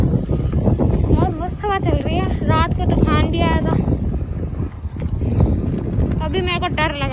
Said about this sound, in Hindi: बहुत मस्त हवा चल रही है, रात को तूफान भी आया था।